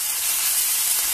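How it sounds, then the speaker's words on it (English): Ginger garlic paste and green chilies hitting hot oil in a pan for paneer bhurji, a loud steady hiss of sizzling throughout the short clip with no voices. "Add in the ginger garlic paste and the green chilies."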